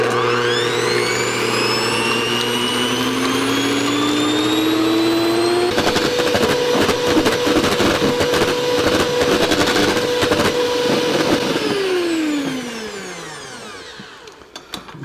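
An electric hand mixer whips room-temperature egg whites and sugar into soft-peak meringue for a raspberry meringue pie, a loud steady motor whine that rises in pitch, holds, then winds down near the end.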